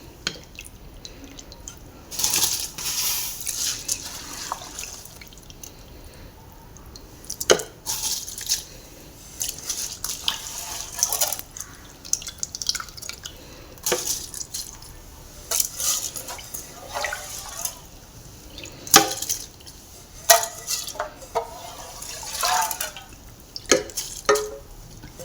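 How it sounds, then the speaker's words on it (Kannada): Soaked rice poured into a pot of pulao, giving wet drips, splashes and soft squishing over a steady faint background, with scattered louder pours across the stretch. "ಈಗ ನೆನೆಸಿಟ್ಟಂತ ಅಕ್ಕಿ ಸೇರಿಸ್ಕೊಳ್ಳೋಣ."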